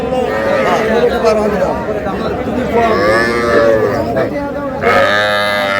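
A young bull calf and other cattle low and moo repeatedly at a busy rural cattle market in Dinajpur, loud and close, over constant crowd chatter and people talking.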